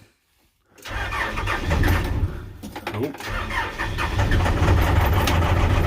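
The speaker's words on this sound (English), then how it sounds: "Try this backhoe again." A backhoe's diesel engine cold starts after a brief silence, cranking and catching, then settles into a loud, rough idle. Someone says a word as it fires.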